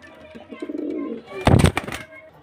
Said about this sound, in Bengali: আরও অনেক পায়রা আছে দেখাচ্ছে পায়রাগুলো